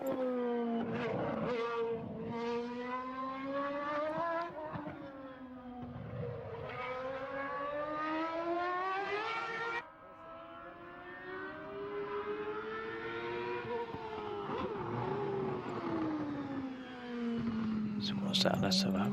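Formula 1 cars from a 1993 season in the Automobilista 2 racing game, engines screaming and shifting in a replay, pitch rising and falling steadily as they pass, with a voice talking over the top throughout.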